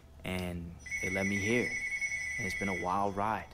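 A telephone rings with a steady electronic tone running through most of the moment, sitting underneath a man's continuous nearby speech.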